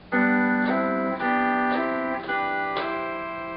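Sustained, gliding pedal steel guitar chords in E6/9 tuning swell in one after another, several held harmonies ringing clearly and slowly fading, with no voices.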